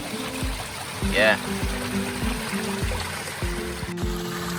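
Fresh spring water trickles steadily into a jug at a Jamaican catchment, a soft continuous flow close by with a man's brief word and faint voice over it.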